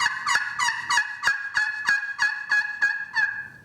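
A maple striker worked across an aluminum friction turkey call, producing a series of about ten sharp, evenly spaced yelps, loud and close, each a bright raspy note with strong harmonics, no talking over them.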